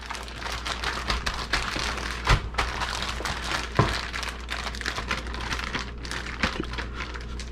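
Continuous crinkling and sloshing of a plastic bag holding pork chops in marinade being shaken close up, with a few soft thumps mixed in.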